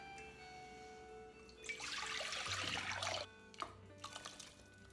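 Water runs from a kitchen tap while blackberries are prepared for a cobbler. A steady rushing stream lasts over a second, then breaks into shorter splashing bursts, fairly close and alone.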